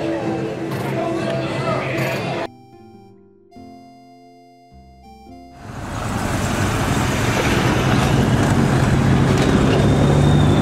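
A car drives along the beach toward Daytona, Florida: a steady, loud engine and road rumble fills the second half, after a quieter stretch with brief tonal sounds.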